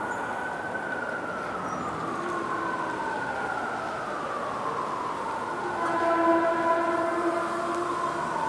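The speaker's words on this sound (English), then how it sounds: "Like Tyson wants us to get on this train to go to downtown LA" A Los Angeles commuter train heading downtown rumbles steadily as its horn sounds in long, gliding tones, fairly loud, with a brief knock near the start.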